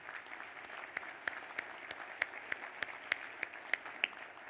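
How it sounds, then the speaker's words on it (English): Crowd clapping at a Kentucky Farm Bureau country ham breakfast, a steady, fairly faint patter of many hands with some sharper individual claps standing out, heard from a distance. "Let's give her a round of applause."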